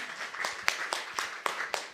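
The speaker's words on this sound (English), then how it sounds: "You're allowed to applaud." Scattered, faint hand claps from a small audience at an architecture research conference, sounding after a presentation in a quiet, roomy space, with a few sharper claps standing out.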